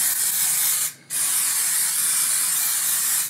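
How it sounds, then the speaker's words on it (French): Grip resin sprayed from an aerosol can, a loud steady hiss in two bursts split by a brief pause near the start, close and alone without any talk. "c'est pas de la résine très très dure, c'est en spray."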